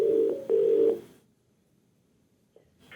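A telephone call being placed sounds as two short electronic ringing tones, each about half a second long, followed by a near-silent pause and a faint click before another tone begins.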